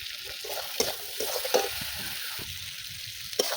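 Chopped onion with salt sizzles steadily in hot oil in a pan for potol korma, with occasional sharp scrapes and clinks of a spoon stirring close up.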